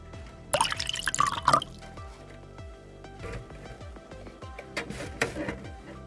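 Vinegar poured into a baking soda volcano experiment gives wet dripping and fizzing splashes, a busy burst in the first second and a half, then quieter scattered drips and small bubbling bursts, close and moderately loud with no talk.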